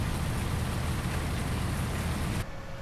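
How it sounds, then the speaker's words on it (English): Steady rainfall in the Farming Simulator 19 video game, a dense continuous hiss of falling rain with no voices, cutting off abruptly near the end. "We do need to get rid of the rain."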